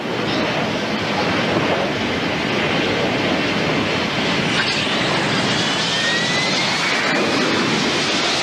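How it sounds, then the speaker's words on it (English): Fighter jets roaring aloft from American aircraft carriers at sea, a dense, steady, loud engine rush that holds without a break. "Aboard the 3 American aircraft carriers in the area, 144 fighter jets take to the air."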